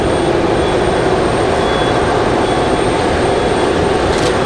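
A steady, loud jet roar from an aircraft operating on the runway at Raleigh-Durham International Airport, broadband and continuous throughout, with no voices.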